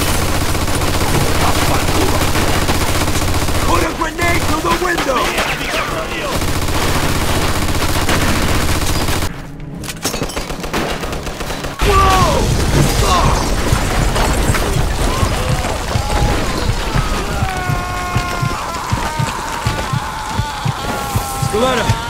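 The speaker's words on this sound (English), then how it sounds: "Looks like we found the machine gun! Watch it! Put a grenade through the window!" Machine gun fire and grenade blasts in the Mafia 2 video game, irregular gunfire bursts and a heavy explosion mixed with game music, shouted voices and battle noise.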